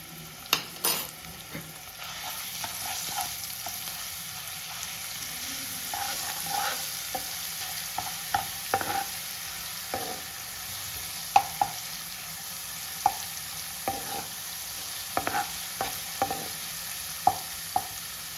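Garlic fries lightly on a low flame in a pan for palak curry, a soft steady sizzle broken by repeated sharp clinks and scrapes of a spoon stirring.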